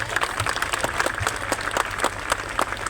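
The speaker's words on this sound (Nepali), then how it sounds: "अझै ठुलो तालीले" Applause from a youth conference audience in Birendranagar, Surkhet: a dense, steady wash of many hands clapping at moderate loudness, with scattered sharper claps standing out throughout.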